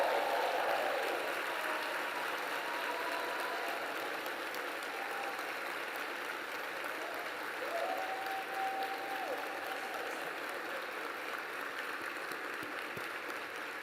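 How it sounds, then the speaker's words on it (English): A large audience at an Urban League opening presidential plenary applauds in a long, sustained wave, with crowd noise, a few brief whistles and some faint talk mixed in. "give this next generation of leadership a strong shout, a strong applause"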